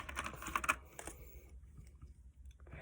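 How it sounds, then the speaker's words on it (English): A new mechanical keyboard with blue switches clicks through a quick, faint burst of keystrokes close by, then falls quiet after about a second and a half. "It's blue switches, by the way, you guys. That's why it's loud."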